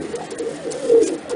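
A pet pigeon in a loft where baby pigeons are being raised coos softly and repeatedly at close range, a low rolling murmur with no voices.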